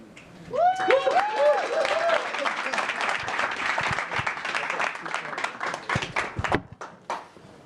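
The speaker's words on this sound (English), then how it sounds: "Let's give another big round of applause for our first 6" A crowd applauds loudly and steadily at a startup demo day, with some cheers and whoops near the start. The clapping continues throughout before thinning at the end.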